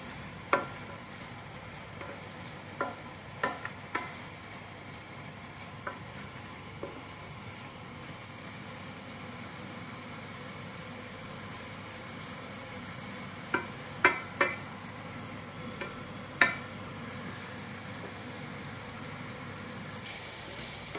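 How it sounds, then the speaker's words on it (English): Vegetables sizzling in a hot metal pan for a meat stew, a steady broadband frying hiss with occasional sharp clinks and scrapes of a utensil stirring, fairly close and moderately quiet, with no talking. "just cook these out until they've wilted"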